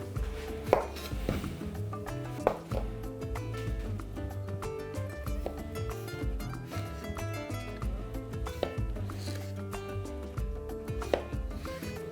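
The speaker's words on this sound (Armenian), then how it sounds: "մանր կտրատում ենք վարունգները" A knife chops fresh cucumbers finely on a board, a quick steady run of close, crisp taps with a few sharper knocks, no voices over it.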